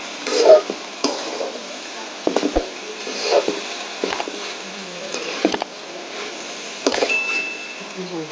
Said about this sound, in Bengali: এখন আমি সবগুলোকে একসাথে একটু নেড়ে ছেড়ে দিচ্ছি ডিমটাকে